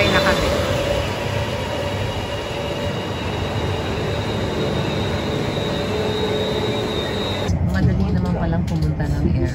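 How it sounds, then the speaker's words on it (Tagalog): Airport rail link train to Suvarnabhumi Airport heard from inside the carriage, with a steady loud rumble and wheel noise running throughout and a faint high whine above it. "There's our train going to the airport."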